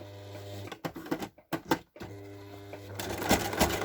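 A sewing machine runs a straight stitch close to the fabric edge of a simple drawstring pouch, with short bursts, a brief pause and a longer steady run. It is near and moderately loud, and no one speaks.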